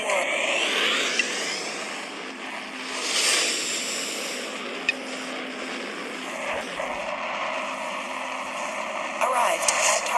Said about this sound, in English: commencing warp.